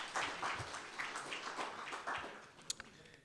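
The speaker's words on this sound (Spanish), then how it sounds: "Y denle un aplauso al Señor por eso." A church congregation claps in a modest, scattered burst, individual hand claps audible in a loose rhythm, fairly faint and distant in a reverberant room.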